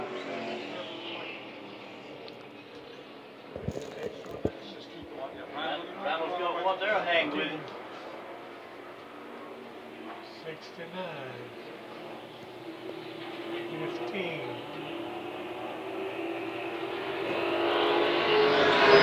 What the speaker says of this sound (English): Both cars dead even as they're down this front straightaway.